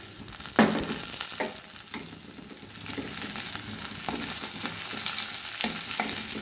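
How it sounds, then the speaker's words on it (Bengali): Bay leaf, dried chilli and five-spice tempering crackles in hot oil over a medium flame, a loud continuous sizzle broken by several sharp spatula strokes against the pan. "গ্যাসের ফ্লেম মিডিয়ামে রেখে আমি ফোড়নটা ভেজে নিচ্ছি"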